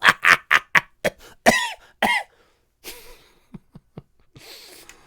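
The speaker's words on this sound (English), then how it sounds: "Starts coughing" A person coughing in a series of harsh, close bursts: several quick hacks in a row, a pause, then fainter breaths and short throat sounds.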